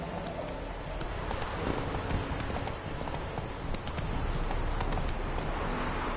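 The horse Roach gallops in the video game Witcher 3, its hooves making a fast, continuous clip-clop rhythm at close range throughout, with light background game ambience.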